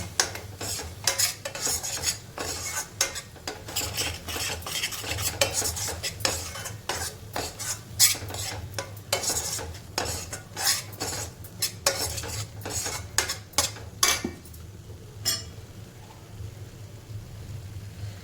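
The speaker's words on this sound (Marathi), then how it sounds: "असं आपण तेलामध्ये थोडा वेळ परतून घ्यायचं" Masala sautéed in oil in a pan for misal, with a spoon scraping and knocking against the metal in a steady repeated stirring rhythm over a low sizzle, close and fairly loud, fading near the end.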